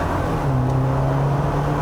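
A 2019 Jeep Wrangler with a 4-cylinder engine restarts and accelerates, a steady low engine drone rising slightly in pitch, heard from inside the cabin with no talking.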